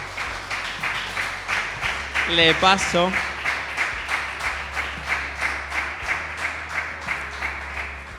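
Members of a church congregation clap at an anniversary service, a moderate, fairly close patter of hands that settles into a loose rhythmic beat, while a voice speaks briefly over it.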